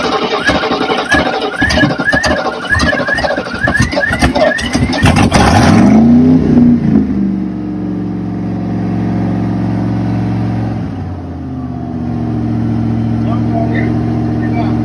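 An old, worn-out van engine starts and revs hard in uneven bursts, then settles into a rough, steady idle with more revving later, close and loud, while voices talk over it.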